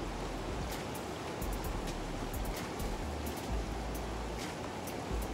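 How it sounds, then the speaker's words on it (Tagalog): Flash floodwater rushes in a steady, loud, dense roar that runs unbroken throughout, with faint higher crackles on top and no voices. "Flash flood"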